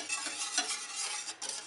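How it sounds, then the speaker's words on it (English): Beef base for brown gravy being stirred in a pan, a spoon scraping and swirling through a soft steady sizzle, close and fairly quiet, with no voices. "So I'm just going to be stirring this little beef base around"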